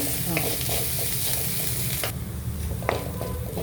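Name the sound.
onions sautéing in a pan for soya potato curry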